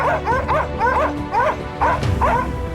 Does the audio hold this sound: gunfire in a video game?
no